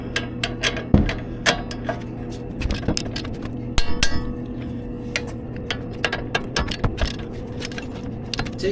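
Metal clicks and clinks from tightening the caliper bolts on a 2007-2013 Chevy Silverado 1500 front brake with a torque wrench, scattered sharp ticks over quiet shop noise.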